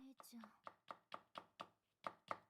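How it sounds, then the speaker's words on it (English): Rhythmic chopping in the horror video game Corpse Party Book of Shadows, about ten evenly spaced sharp blade strikes, fairly close and clear, with a brief voice-like sound near the start. "Why is there a chopping sound?"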